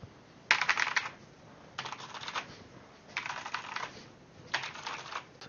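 Typing a command on a computer keyboard while installing an Apache module on Ubuntu, four short bursts of rapid close key clicks separated by pauses, with no talking.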